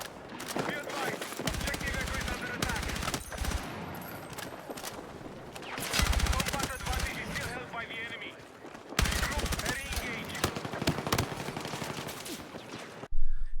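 Dense, punchy automatic gunfire and explosive shots from the video game Battlefield 6 play in sustained bursts with brief pauses, loud and heavy, with a final sharp blast at the end.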